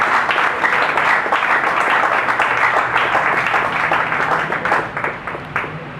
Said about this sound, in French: Encore un peu d'acclamation pour ce charmant discours.